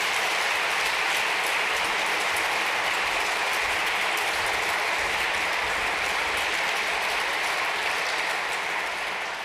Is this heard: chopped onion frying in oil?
no